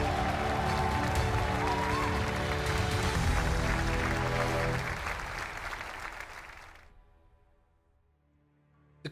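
Loud esports arena crowd at a Rainbow Six Siege match roars and applauds steadily for several seconds before the cheering fades away, ending in near quiet.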